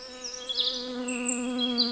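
A honeybee worker buzzes in a steady, continuous drone with a slightly wavering pitch, close and moderately loud, with no voices.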